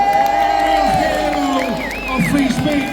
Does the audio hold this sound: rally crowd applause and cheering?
yes